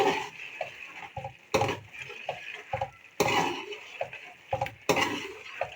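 Spices are stir-fried in ghee in a karahi for an Iranian karahi dish: a spoon scrapes and knocks against the pan in uneven bursts over a soft background sizzle.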